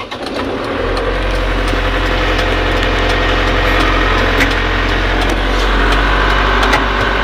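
A car engine cranks and catches within the first second, then settles into a steady, loud, low idle that hums on unchanged nearby.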